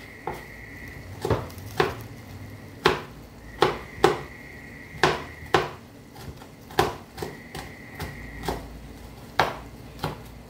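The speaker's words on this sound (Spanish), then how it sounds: "me voy a picar el chilito" A knife chopping a chili pepper on a cutting board: about fifteen distinct, fairly loud knocks at an uneven pace, some with a faint ringing tone, and no speech.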